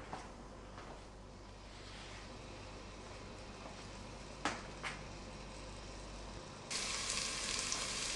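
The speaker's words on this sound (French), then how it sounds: "Mon oignon est en train de dorer," Small onions fry in hot olive oil with a steady, quiet sizzle and crackle, with a couple of brief clinks and a sharper hiss near the end.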